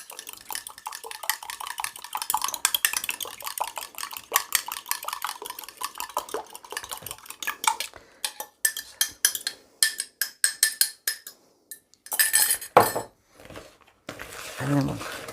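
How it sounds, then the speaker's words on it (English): Eggs beaten one at a time into a Christmas cake mixture in a bowl, with rapid, close, rhythmic clicking of a utensil against the bowl in bursts, followed by a few louder clinks and a voice speaking near the end. "We'll beat them in to the mixture one at a time."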